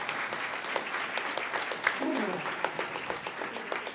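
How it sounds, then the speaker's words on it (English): Steady applause from an event audience fills the room, dense and continuous, with a voice briefly audible partway through. "Give yourselves a round of applause"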